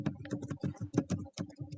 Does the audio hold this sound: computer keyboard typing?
yes